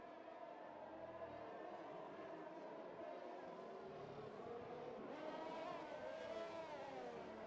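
Virtual Formula 1 cars in the F1 2021 video game, Hungarian Grand Prix, powering back up after a virtual safety car period. Engine whine is steady and fairly quiet, then rises in pitch toward the end as the cars speed up.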